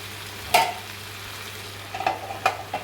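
Prawns frying with garlic and chilli in a pan, a soft steady sizzle broken by a few sharp stirring scrapes, close and without talk.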